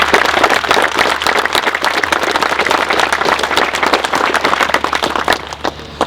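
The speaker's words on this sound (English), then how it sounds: "your father, Fred, who deserves a round of applause" Audience applause for Fred, a father honoured at a baseball clubhouse event at El Modena High School: dense, close clapping from a crowd, steady for the full stretch and easing slightly near the end.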